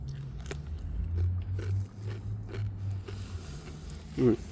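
Someone bites into a crunchy salad cucumber of the Ninja variety, leaving a few short crisp crunches and chewing sounds close to the mic, with a quiet voice near the end.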